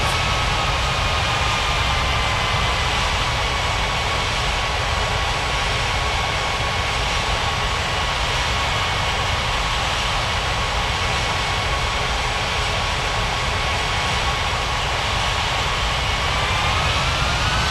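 Jet airliner taking off from a runway in an air traffic control video game, a continuous loud roaring whoosh of engine noise with a faint rising whine, steady for the whole stretch.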